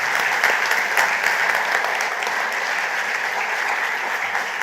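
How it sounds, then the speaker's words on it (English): A conference crowd at a cultural and creative industries event in Grenada applauds the organizers, with full, sustained clapping that stays loud and even throughout and no speech. "Please give them a round of applause."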